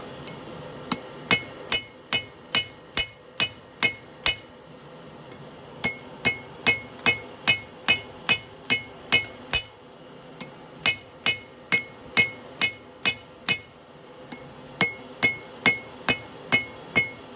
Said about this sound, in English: I'm going to switch over to a smaller hammer now.